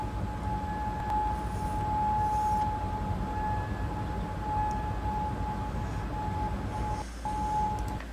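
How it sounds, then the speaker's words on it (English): Air raid siren in Kuwait holding one steady tone from far off, continuous across the stretch with a brief dip near the end, over low rumbling background noise. "Here's another round of sirens in Kuwait this morning."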